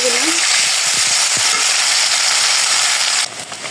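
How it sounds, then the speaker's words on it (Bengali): Paneer frying in a pan makes a loud, continuous sizzle with occasional stirring scrapes, dropping quieter just before the end. "তো এই যে পনিরগুলো হয়ে গেছে, ভাজা হয়ে গেছে"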